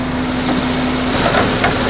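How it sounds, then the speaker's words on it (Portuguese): A Nissan 370Z engine idling, a steady low hum with a constant tonal drone and slight roughness, heard close and fairly loud with no talking. "Tá, vamos dar uma olhada no motor funcionando."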